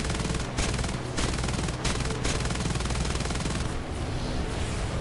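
Rapid automatic gunfire from enemies shooting at the player in a video game, dense bursts of machine-gun fire rattling nearly nonstop, loud and close throughout.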